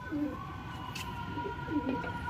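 Pigeons of a main-line breed coo softly several times in a quiet setting, with short low warbling calls scattered over faint background hum.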